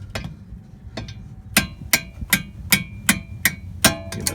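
A hammer taps repeatedly on the strut assembly of a 2004 Toyota Sienna during a strut replacement, about nine sharp metallic knocks at a quickening, uneven pace, loud and close.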